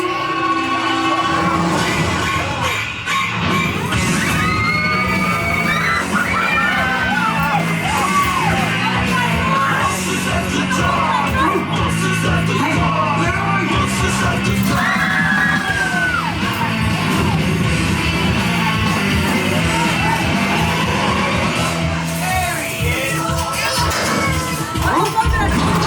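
Riders on a Guardians of the Galaxy dark ride during a Halloween event, repeatedly screaming and yelling over a loud, continuous mix of ride noise and music.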